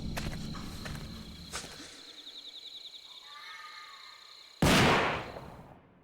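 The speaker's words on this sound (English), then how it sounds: "Suddenly the sound of a gunshot rings out and reverberates through the shrine grounds." A gunshot from the video game Death Mark 2 cracks loud and sudden across shrine grounds, a single sharp blast that rings out and decays with a long reverberant tail, following quieter ambient game sounds.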